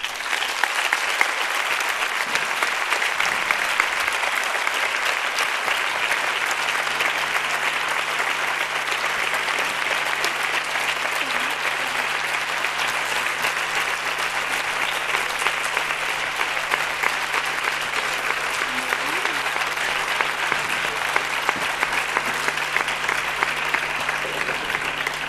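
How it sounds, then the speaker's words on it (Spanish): Audience at an education awards gala applauding in a tribute, a sustained, loud burst of clapping that holds steady for around twenty-five seconds with no talking over it. "demostrarle un aplauso tan fuerte que lo pueda escuchar desde el cielo"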